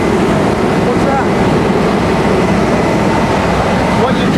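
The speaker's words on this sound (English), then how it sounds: "What the truck does is it kicks itself up into high idle to keep those charged." A fire engine's diesel running at high idle, raised automatically by its load manager to keep batteries charged while all its lights are on: a loud, steady, broadband rumble filling the whole stretch without pause.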